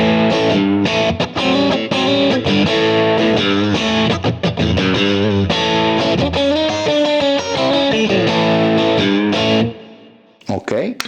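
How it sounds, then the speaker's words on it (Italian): PRS Custom 24 SE semi-hollow guitar played through its two middle single-coil pickups with a crunch tone, loud overdriven chords and riffs strumming steadily, then cutting off near the end. "Sentiamolo i due singoli centrali con un crunch."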